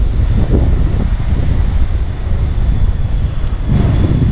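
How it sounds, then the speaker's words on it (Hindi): Strong wind in Bangkok roars steadily into the microphone, a loud continuous rumbling rush with slight surges and no voices. "बहुत तेज़ हवा चल रही है और बहुत अच्छा मौसम है फ़िलहाल"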